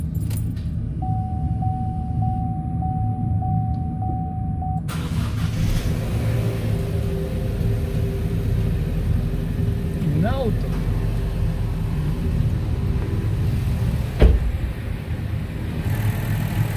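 After a timing chain repair, an Opel car engine is started, with keys jangling just before it catches. It then settles into a steady, quiet idle that runs continuously, with a brief thump near the end.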